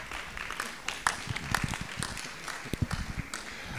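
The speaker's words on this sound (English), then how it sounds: "let's give him a round of applause and get him excited" A forum audience claps for a speaker being introduced, scattered and fairly light applause of separate hand claps heard from a distance.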